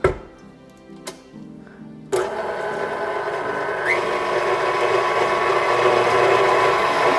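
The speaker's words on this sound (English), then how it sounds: "So now we're just gonna mix it all up before we add in the wet ingredients." An electric mixer blends the dry ingredients for vegan gingerbread protein cookies, which include Swerve sugar. It starts after a couple of brief knocks and then runs as a steady, close whirring drone that rises slightly in pitch partway through.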